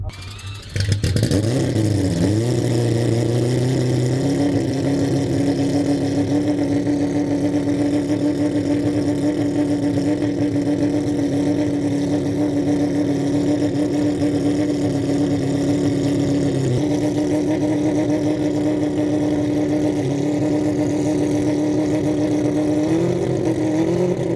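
An all-wheel-drive car with a four-rotor rotary engine idles, then rises and holds at a steady raised rev with a buzzing, droning tone, loud and close, with a brief dip in the middle.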